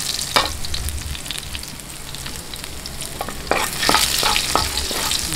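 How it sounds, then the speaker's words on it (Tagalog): Squid balls sautéed in a pan for pancit canton give a constant close sizzle, punctuated by repeated quick scraping and tapping strokes of a spatula. The stirring grows busier and louder toward the end. "Okay, haluin na po natin ang squid balls. Ngayon po, umpisahan na po natin ang paggigisa."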